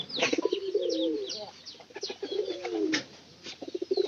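A pigeon coos in a few soft rolling phrases, close by, with light chirps and wing flutters around it.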